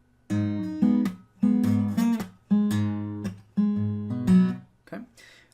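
An acoustic guitar plays the closing part of a song in a repeating strummed pattern, four clear chord phrases with short gaps between them, close and fairly loud, ending in a brief trailing strum.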